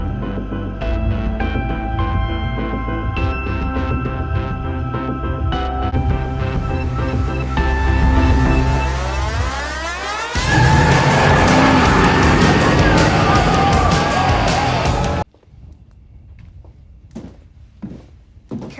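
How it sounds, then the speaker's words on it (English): Car engines race loudly with rising, sweeping tones, building and then dropping off abruptly near the end, followed by quieter scattered sounds. "Engines warm and ready."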